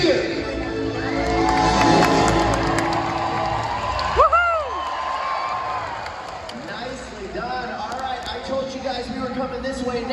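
A crowd at a SeaWorld Orlando orca show cheering and whooping loudly as a killer whale jumps, a broad roar of many voices with scattered shouts and children's cries, while an announcer talks over the stands.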